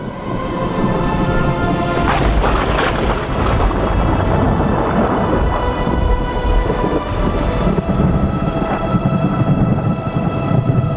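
Heavy rain roars continuously while thunder rumbles and cracks, with a sharper clap early on, loud and close throughout as a TV drama sound effect.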